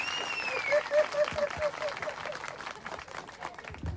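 An audience in a church claps loudly on request: a steady wash of applause with some cheering throughout, and a voice over it.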